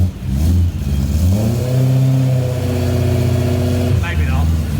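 A BMW E30 M3 track car with a swapped S65 V8 and custom exhaust revs hard and close, its pitch sweeping up and holding a loud, buzzy note before dropping off, with a brief voice near the end.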